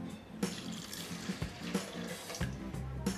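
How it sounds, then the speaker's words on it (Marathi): Water runs steadily from a tap onto washed urad and masoor dal in a vessel, a continuous splashing rush with small surges, close and fairly loud throughout. "आता यामध्ये आपण पाणी घालूया"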